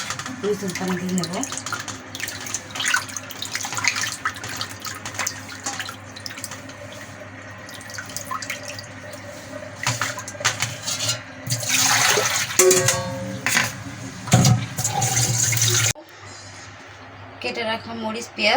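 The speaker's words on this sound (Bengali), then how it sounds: "আবার আমি নতুন পানি দিয়ে নেব।" Fresh water poured over fish roe to wash it in a village kitchen, heard as intermittent splashing and running water that swells into a louder, sustained gush before stopping abruptly.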